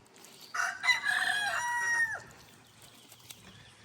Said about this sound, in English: Y'all have to excuse my chicken.